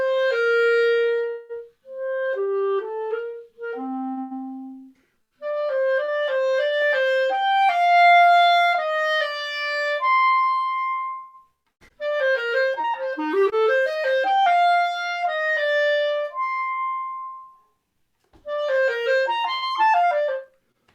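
Solo performance of Adolphus Hailstork's Three Smiles from measure 5, a clear melodic line of separate phrases with pushed and pulled odd tempos, broken by short pauses and ending after a brief gap.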